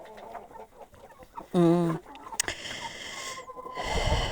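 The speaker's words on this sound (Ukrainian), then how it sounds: "Тут є багато півнів, хай підростають, наїдаються" A rooster crows once, loud and close, amid softer clucking from a flock of young roosters and laying hens on a small farm, with faint background noise around it.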